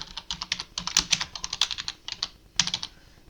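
Quick bursts of typing on a computer keyboard while entering signature text in the Thunderbird email program, close crisp clicks with a brief pause before a final flurry of keystrokes.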